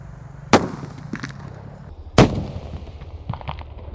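Two sharp, loud bangs from a jumbo firecracker fitted with a yellow power extender going off in an open rice field, each blast cracking out and echoing briefly, spaced under two seconds apart.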